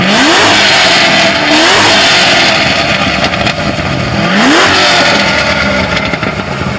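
A Lamborghini's engine revs hard at a cars and coffee meet, with repeated loud, rising blips and roaring pulls close by, each climbing and falling in pitch over a constant din of crowd and traffic.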